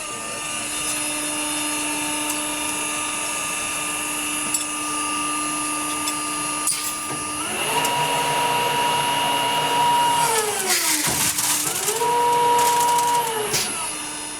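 Dry ice machine hissing steadily as it injects gas to form ice for cleaning a Porsche 997.2 GT3 RS, with a continuous mechanical drone that swells louder and shifts pitch partway through.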